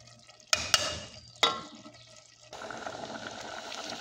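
A thick fish stew (molé) simmers in a pot, giving soft bubbling and liquid stirring with a few sharp clinks of a utensil against the pan, close and fairly quiet.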